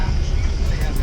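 Engine drone and road rumble inside a moving bus heading to an airplane boneyard near the Pima Air and Space Museum, a steady low close hum with people talking over it.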